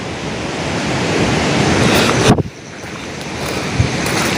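A mountain waterfall near Dharchula sends up a steady, loud broadband rush of falling water mixed with wind, which briefly drops away and then returns.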